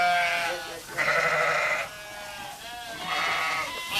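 Sheep on a farm flock of about 550 animals bleat in several overlapping calls, wavering and nasal, moderately close against a quiet background with no talking.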